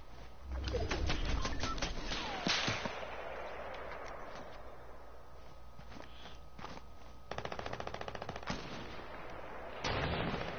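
Video game firefight with rapid bursts of gunfire and sharper single sniper shots, mostly at middle distance, including a fast rattling automatic volley and scattered footsteps and clatter between shots.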